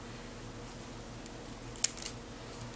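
Scissors snip through a paper planner sticker sheet in one short, crisp cut over a quiet room hum.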